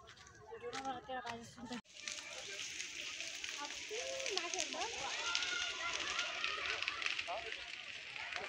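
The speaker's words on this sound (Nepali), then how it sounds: "आगो लागेको छ" A jungle fire in Budhanilkantha, Nepal: a steady broadband crackling roar of burning vegetation, preceded by a voice shouting and people talking over the noise.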